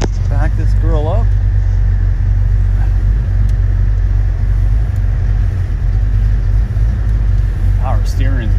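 A Ford Mustang Foxbody idling loudly from inside the cabin as it backs up, a deep steady engine rumble throughout with brief squeaks near the start and end.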